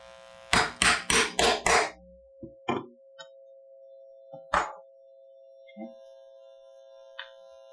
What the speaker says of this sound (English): I'm going to hit it a couple of times with the hammer.